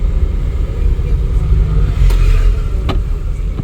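Car engine rising under acceleration during a driving lesson after a shift into second gear, a steady low rumble building beneath the cabin with a couple of brief clicks, no talking.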